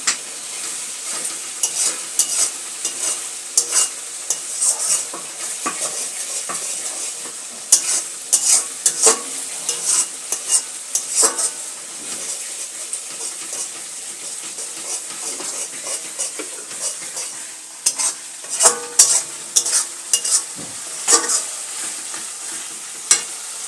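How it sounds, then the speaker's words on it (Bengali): Spices sauté and sizzle in a hot pan with steady frying hiss, broken by repeated scraping and clinking strokes of a spoon stirring, close up and with no voices. "এখন মশলা কষানো হচ্ছে তোমরা দেখে নাও মশলা এখন কষে যাচ্ছে"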